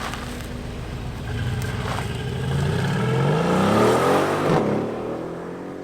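A 2020 Mercedes AMG GLC63s Coupe drives off, its engine note rising and swelling in pitch as it accelerates, loud and steady close by, then easing slightly at the end.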